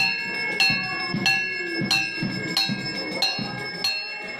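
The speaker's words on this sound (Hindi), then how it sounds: "हम सभी ने बचपन से अपनी दादी, नानी, माताजी को पूजन करते समय घंटी बजाते हुए देखा है।" A Garuda puja hand bell rung steadily, bright metallic strikes roughly every two-thirds of a second with long shimmering overtones ringing between them, close and clear.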